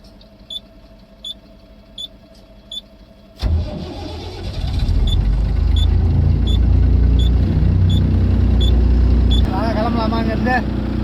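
A vehicle's engine cranks and catches, then settles into a loud, steady idle after a few quiet clicks, with a brief high beeping near the end.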